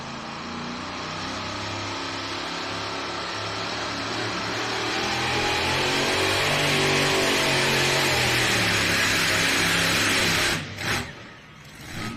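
A big block Chevrolet engine in an NTPA pulling truck roars steadily and loud for about ten seconds, holding a strained high-rev drone with wavering pitch before cutting back sharply near the end.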